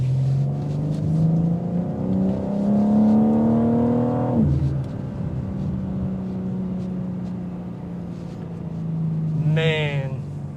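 A 2025 BMW M4 Competition xDrive coupe on a test drive, engine note rising steadily as it accelerates, then dropping sharply on a gear change and settling into a lower hum, with a voice speaking over it.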